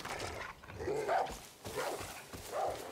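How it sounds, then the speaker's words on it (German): Dog barking in the Far Cry New Dawn video game, a few short bursts of barks and yips spread across a couple of seconds at moderate loudness, with no talk over them. "Hund! Wo ist er?"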